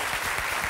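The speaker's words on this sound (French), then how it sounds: "on applaudit les panthères" Brief burst of dense audience applause at the Cannes Film Festival, steady clapping throughout with no pauses.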